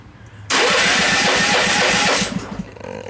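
Honda tractor snowblower engine cranks and catches abruptly, giving a loud rhythmic chugging run for under two seconds before dropping back and sputtering.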